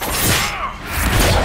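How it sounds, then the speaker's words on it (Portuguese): A loud explosion in the video game Dragon Age: Inquisition bursts with a broad, shattering blast, then rumbles and crackles on for over a second. "Explosão."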